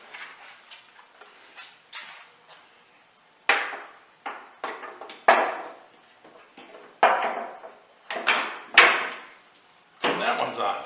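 Metal panels are fitted by sliding their hooks into place and clipping them onto a frame, giving a series of sharp knocks, clicks and scrapes at irregular intervals, close and fairly loud, with no talking.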